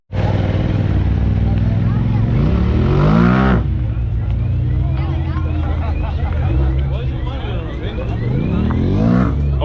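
A loud car at a car meet in Edinburgh revs hard close by, engine pitch sweeping up and dropping in repeated surges, with people talking and other engine sounds nearby.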